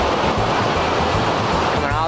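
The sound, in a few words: waterfall water rushing down from the lake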